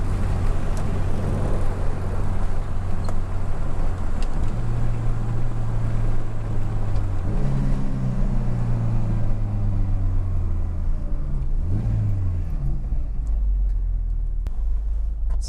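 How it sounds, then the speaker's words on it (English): A Volvo 240 with a swapped T5 engine drives along, its low engine drone rising and dropping through several gear changes under constant loud wind and road noise. "Hopefully there's not too much wind noise there for you."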